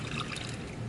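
Homemade brownie batter made with coconut oil is poured from a bowl into a pan, giving a soft, steady trickling pour up close, with no talking.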